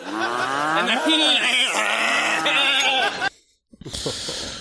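Cattle mooing in a scene from the horror film Halloween 4: loud, drawn-out lowing calls with wavering pitch fill the first three seconds, then a brief pause before more bawling and bleat-like cries.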